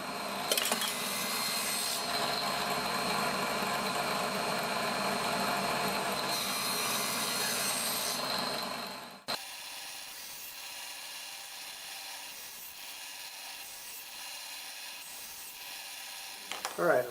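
A saw cuts wood pieces for a wood-turning quilting pattern, giving a steady loud rasping drone for about nine seconds that cuts off abruptly and leaves quieter workshop hum.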